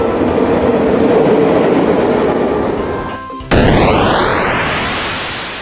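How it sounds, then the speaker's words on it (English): A train rolls past on rails, with a steady loud rumble and clatter that cuts off abruptly, then resumes as a strong rushing whoosh with a sweeping tone. "Wow, it's train."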